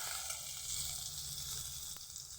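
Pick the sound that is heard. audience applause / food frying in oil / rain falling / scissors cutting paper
food frying in oil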